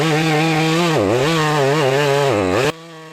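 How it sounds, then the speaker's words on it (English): Chainsaw cutting a tree in a snowy forest: a loud, close, harmonic engine whine that dips and surges as the blade bites into the wood, then cuts off abruptly near the end. "the chainsaw roars like a beast unleashed in the frozen wild"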